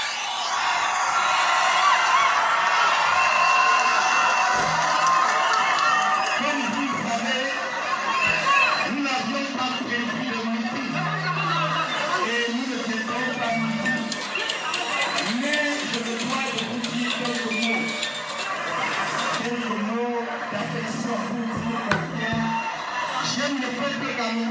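A large crowd at a political rally in Douala, Cameroon, heard from a played-back recording: a dense, steady roar of chatter, shouts and whoops that stays loud and continuous, with occasional cheers rising above it.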